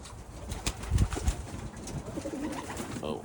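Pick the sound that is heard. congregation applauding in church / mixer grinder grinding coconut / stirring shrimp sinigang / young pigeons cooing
young pigeons cooing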